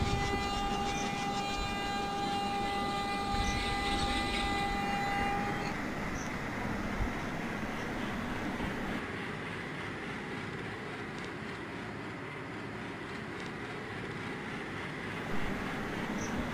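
Freight train running in the Open Rails train simulator game, with continuous rumbling wheels and engine drone plus a sustained whistle-like tone early on, steady and fairly loud throughout with no talk.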